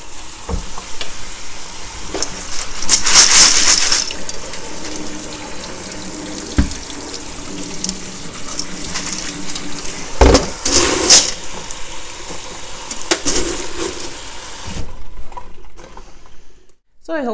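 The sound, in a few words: rinsing clay pebbles in a colander under water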